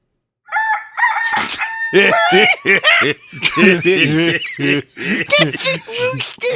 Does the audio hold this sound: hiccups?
no